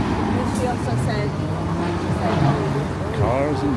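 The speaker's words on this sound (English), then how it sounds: "Cars and bikes go by." Traffic on 7th Avenue in New York City, with cars and bikes rolling past in a steady street roar, a few horn-like tonal bits and faint chatter from people nearby.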